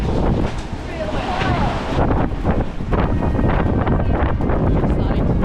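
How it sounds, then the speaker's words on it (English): Strong wind buffeting the microphone on a sailboat at sea off Sardinia, loud gusty roaring with wave and water noise, a voice talking underneath. "We've just turned into wind, come in on the head sail and it's very windy."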